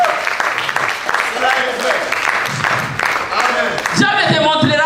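A church congregation claps and applauds together, with sustained crowd clapping mixed under a preacher's loud voice, then a sung or chanted tonal passage rising at the end.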